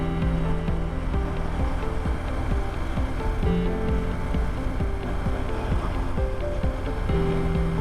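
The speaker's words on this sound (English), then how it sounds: "Wow, what a nice running motorcycle." A 2008 BMW R1200GS motorcycle running on the road after 16 years in storage, a steady low engine drone mixed with constant wind rush, continuous and close without any speech.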